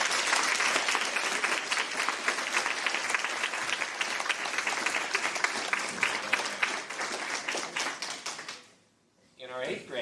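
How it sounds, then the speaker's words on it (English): Audience applause for honor roll students at a 1997 Chatham High School awards assembly: loud, dense clapping for about eight seconds that cuts off abruptly, followed by a voice starting to talk. "So let's give them a round of applause."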